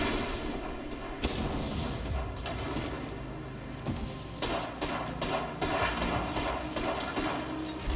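Gunfire in the Apex Legends video game: bursts of sharp shots and booming impacts cracking over a dense, rumbling battle din, with a rapid cluster of hits late in the clip.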